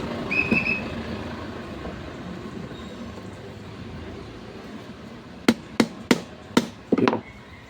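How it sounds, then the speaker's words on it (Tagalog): Five sharp metallic hammer strikes on an old electric fan's screw land in quick succession near the end, after a stretch of steady background noise. "lumuwag siya mga ka-viewers dahil pinakpok ko ng martilyo"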